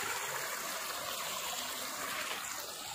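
Water from a lake-fed spring at the Borovoe (Burabay) resort runs in a steady, close, hissing trickle, with no voices over it.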